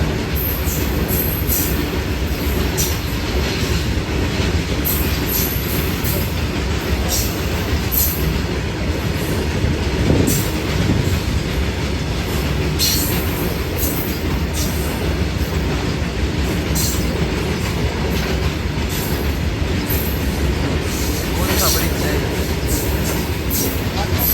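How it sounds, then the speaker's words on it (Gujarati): A long train rolling past close by, a loud continuous rumble with rhythmic wheel clatter and occasional squeal that holds steady for the whole stretch, with a voice faintly over it. "આ તો બહુ લાંબી ટ્રેન બાબા."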